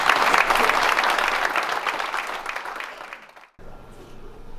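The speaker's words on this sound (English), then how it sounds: "Hey, give her a round of applause." A banquet audience applauds with loud, dense clapping that fades out after about three and a half seconds, leaving a quieter room.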